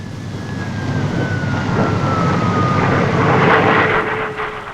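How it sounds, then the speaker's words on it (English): A Hawker single-seater jet fighter climbs almost vertically at the Farnborough air show, its loud roaring engine holding steady with a slowly falling whine before it begins to fade at the end. "The new Hawker single-seater fighter is next on parade with an amazing demonstration of its almost vertical"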